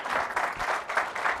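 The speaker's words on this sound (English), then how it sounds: "Give Mark a round of applause," An audience at a dairy industry presentation on artificial intelligence gives a short round of applause, with moderately loud clapping that comes in rhythmic bursts for a brief moment.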